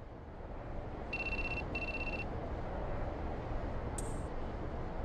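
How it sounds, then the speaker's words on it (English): A cell phone rings in the video game Shin Megami Tensei III Nocturne: two short bursts of a bright electronic trill in quick succession, then a brief chime, all over a steady background hum. "I think that's your phone going off."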